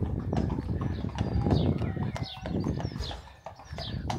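A horse canters near the Lowestoft beach on the Suffolk coast, its hooves thudding in a quick, uneven clip-clop rhythm close by, with birds chirping faintly in the background.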